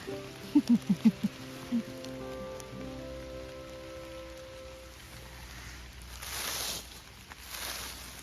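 Steady rain patters down in a forest during mushroom foraging, a soft even hiss that swells briefly near the end, with a few low tonal thumps at the start and no talk.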